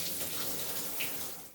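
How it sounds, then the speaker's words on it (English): A shower runs steadily with a soft, continuous hiss of spraying water, even and fairly quiet throughout, with no voices. "I decided to take a shower."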